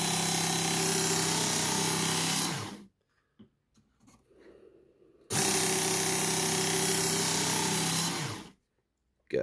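A Work Sharp Mk.2 knife and tool sharpener grinds a knife blade in two loud, sustained passes of steady motor whine and abrasive hiss, separated by a quiet pause with faint handling clicks.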